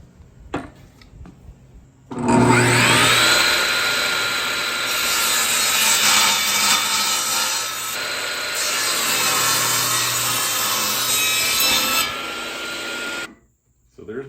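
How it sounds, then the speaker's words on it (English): A power-drill-driven hole saw bores through a wooden board, a loud close grinding whine that spins up, holds steady for about ten seconds with slight wavering, then stops; a short bit of talk precedes it. "I just used my hole saw to cut the holes out"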